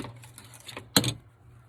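Wire cutters snip through twisted wreath wires, a single sharp, close click after some faint handling rustles.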